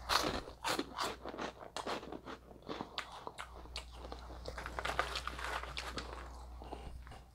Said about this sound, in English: It's like really hard to chew a lot of chips, you know?